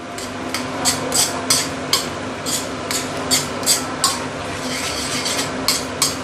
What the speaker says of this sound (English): now I'm going to use medium-high heat to slowly stir fry my belacan